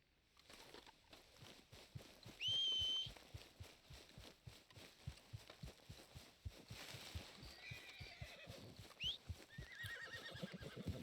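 A horse in the video game Red Dead Redemption 2 whinnies twice, loud and near, over steady rhythmic hoof thuds as it moves along, with no one speaking.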